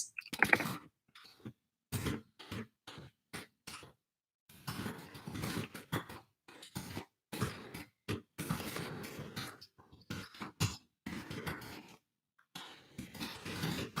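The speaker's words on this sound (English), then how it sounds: "I'm going to type that in" Someone types on a computer keyboard in a quiet indoor room, with bursts of close, crisp key clicks separated by short pauses.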